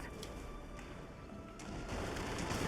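Continuous rumbling gunfire and dense explosive impacts from MechWarrior 5: Mercenaries mech combat, a steady wash of shots that grows slightly heavier toward the end, with no voices.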